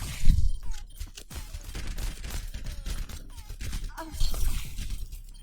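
Bursts of gunfire from the video game Overwatch crack in quick clusters over a busy game mix, with someone talking in between.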